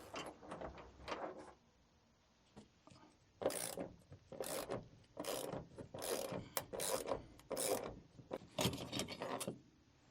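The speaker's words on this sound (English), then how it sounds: "So now we can remove the top bolts." Top bolts, 5/16 size, are loosened from a 1980-1996 Ford Bronco hard top with a ratchet, giving repeated bursts of quick clicking ratchet strokes separated by short pauses, fairly quiet and close.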